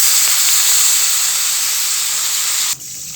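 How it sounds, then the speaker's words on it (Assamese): Hot water hits goat mutton frying for a homestyle curry, giving a loud, steady sizzling hiss and steam close by that drops off abruptly near the end; no one speaks. "মই গৰম পানী দি দিওঁ।"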